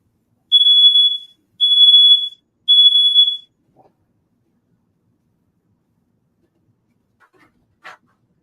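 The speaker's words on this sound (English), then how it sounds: "when it's cooked done is when the fire the smoke detector goes off" Three loud, evenly spaced electronic beeps from a smoke detector set off during cooking, each about a second long, followed by silence and a faint clatter near the end.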